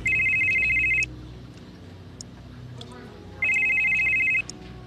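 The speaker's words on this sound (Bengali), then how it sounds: "এমন সময় ওর ফোনটা বেজে উঠল" A telephone in an office rings in two bursts of a bright, steady electronic tone, each about a second long with a short gap between them, over a low background murmur.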